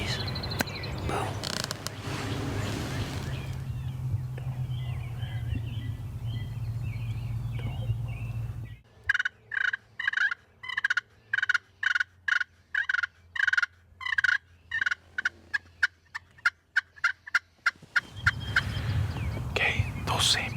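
Wild turkey toms gobble in a rapid burst of repeated rattling calls in an Ontario field, moderately close, after a quieter stretch with low background rumble and faint whispering.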